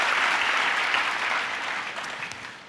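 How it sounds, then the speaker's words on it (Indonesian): Sustained applause fills a church service as the congregation claps for the worship leaders and musicians, a dense, steady wash of hands that tapers off slightly toward the end. "Boleh tepuk tangannya di extend buat para worship leaders dan para musicians."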